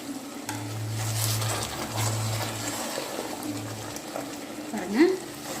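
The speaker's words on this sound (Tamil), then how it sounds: "இப்போ நல்லா கொதி வருது" Andhra-style stuffed brinjal curry boiling in a pot: a steady close bubbling and simmering hiss throughout, with a low hum underneath and a brief stir or scrape near the end.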